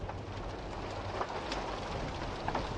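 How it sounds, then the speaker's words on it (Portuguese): Rain in the background of the horror video game Fobia St. Dinfna Hotel, a dense, steady hiss of falling rain with scattered brief patters, moderately faint and continuous, alone without talk. "Tem um barulho de chuva no fundo, ó."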